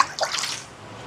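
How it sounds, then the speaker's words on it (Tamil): A little water is poured into rice cooking outdoors for a charity meal, making a short, close splash that fades into a soft trickle within about a second. "கொஞ்சமாக தண்ணி ஊற்றி விடுவோம்"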